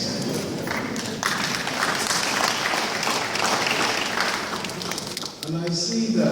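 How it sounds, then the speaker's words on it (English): Scattered applause from the audience at the Sixth Climate Change Summit 2014 in Lagos, a steady wash of clapping under crowd murmur and some voices, with a brief dip near the end. "And I see that the applauses have been rather sparing"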